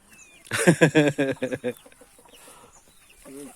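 Chickens in a newly started backyard flock cluck in a loud, rapid burst close by, then go quieter with a few softer clucks.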